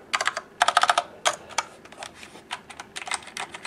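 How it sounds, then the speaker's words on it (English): Typing on a Tesoro Durandal Ultimate mechanical keyboard with softer, less clicky switches, close and clear, in quick bursts of keystrokes separated by short pauses. "I like this, not too much click sound, but still a mechanical keyboard feeling."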